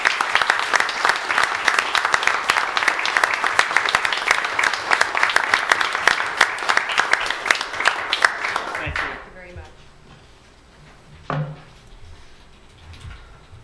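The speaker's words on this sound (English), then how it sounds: "a round of applause." Audience at a town board of commissioners meeting applauds committee members; dense, loud clapping lasts about nine seconds, then stops abruptly, leaving room noise and a single knock.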